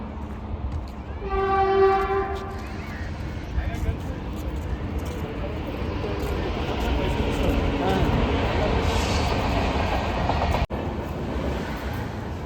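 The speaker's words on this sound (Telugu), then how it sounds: "ఇది చెర్లపల్లి స్టేషన్" A train at Cherlapalli railway station sounds a loud horn blast near the start, then a steady rumbling roll continues, with a sharp clunk near the end and voices around.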